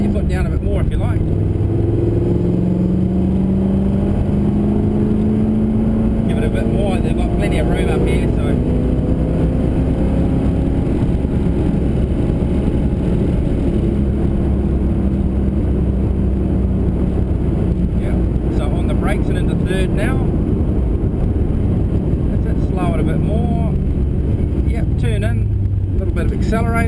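V8 race car accelerating around the Pukekohe circuit, its engine a steady droning roar that swells with the throttle, mixed with wind buffeting and a voice talking over it.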